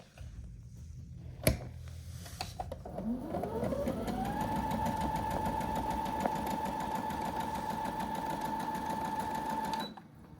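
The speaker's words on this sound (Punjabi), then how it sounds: "ਦੋਨੇ ਤਣੀਆਂ ਦੀ ਆਪਾਂ ਇਹਨਾਂ ਤੇ ਸਲਾਈ ਲਾ ਲੈਂਦੇ ਆ" A sewing machine stitches along fabric straps, its motor spinning up after a sharp knock and then running in a steady, even whir for several seconds before stopping abruptly.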